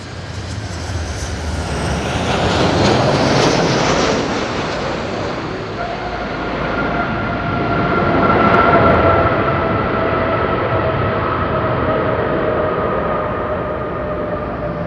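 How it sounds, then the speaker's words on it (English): A jet airliner at Madeira Island Airport rumbles past on landing, a loud, broad roar that swells, eases and swells again, with a steady engine whine emerging as it rolls out. "It was nice positive landing."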